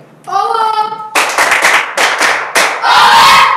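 Members of a football academy shout a loud rhythmic chant together, with a sustained voice at first, then sharp bursts of cheering and clapping, close and energetic.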